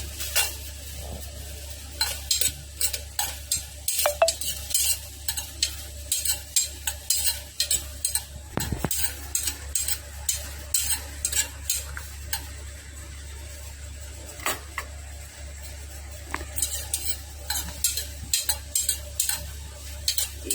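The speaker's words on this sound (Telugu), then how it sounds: "వేసుకుని దానిలోకి నేను ఒక 4 ఎండుమిర్చి వేస్తున్నానండి." Dried red chillies frying in a small amount of oil in a pan, with a steady low kitchen hum, repeated light stirring scrapes and clinks, and a faint sizzle running beneath.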